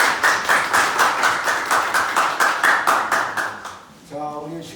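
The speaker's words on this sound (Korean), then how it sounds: "우리 박수 한번." A church mission-training gathering at a meal, with a group clapping in a regular, even rhythm of about three claps per second for roughly four seconds. The clapping then fades as a voice begins speaking.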